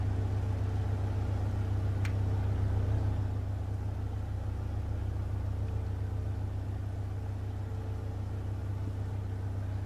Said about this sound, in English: See the old engine going there, spinning